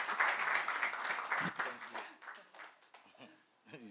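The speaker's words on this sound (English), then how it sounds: "please give a big, big, big, big, big round of applause for Master" An audience at a film festival claps in a dense burst of applause that fades over a few seconds, with voices and chatter mixed in as it thins out.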